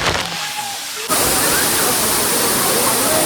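Sirimane Falls waterfall thunders in a dense, continuous roar that bursts in loud and close after a brief quieter moment, with a voice faintly heard at the start.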